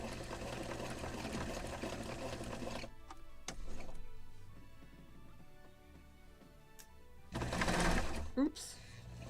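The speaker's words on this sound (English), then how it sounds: "I'm sewing." Machine sewing of sails for a 1776 gunboat Philadelphia model ship, loud steady mechanical whirring in bursts at the start and again near the end, with quieter handling noises and talk between.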